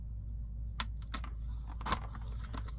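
Fiskars paper trimmer slicing through vintage cabinet card photographs from the 1800s and early 1900s: a few brief, crisp cutting strokes, close and fairly quiet over a steady low room hum, with no talking.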